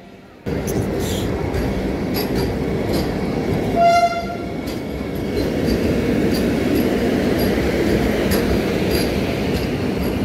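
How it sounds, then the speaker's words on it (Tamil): A train rumbles steadily nearby with a short horn tone partway through, surrounded by busy platform noise and a distant voice. "நம்ம வந்த ட்ரெயின் இதுதான், இதோ இருக்குது பாருங்கள்."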